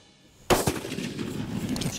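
A single close rifle shot fired at a coyote during a hunt in Kansas, a sharp loud crack with a short rolling echo, followed by outdoor background noise.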